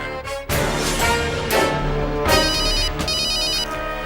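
A mobile phone rings loudly and close by, its electronic ringtone melody repeating continuously throughout.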